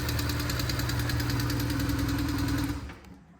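A BMW R1150GS motorcycle engine idles with a steady rhythmic throb up close, then cuts off and fades out near the end.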